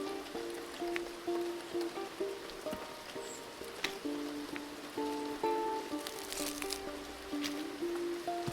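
Steady video game rain hisses throughout, with soft patters and squishy splashes under sustained musical tones, and a few louder sharp clicks.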